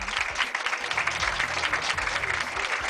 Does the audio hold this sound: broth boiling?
no